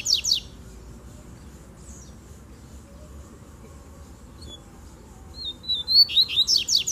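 Double-collared seedeaters sing in quick bright trills at the start and again near the end, louder in the closing seconds, over a low steady background murmur with other faint birds in between.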